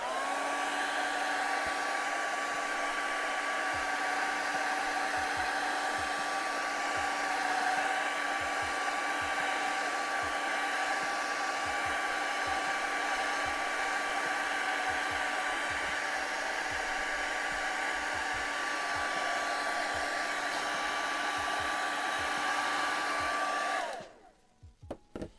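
A hair dryer blows heat onto tacky paint with a steady, loud whirring hum that runs unbroken for over twenty seconds before cutting off abruptly.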